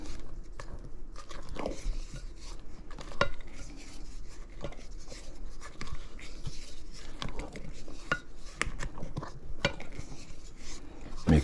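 Chocolate cake batter being stirred and folded with a spatula in a bowl: uneven scraping and soft clicks against the bowl sides with a few sharper knocks, close and steady throughout.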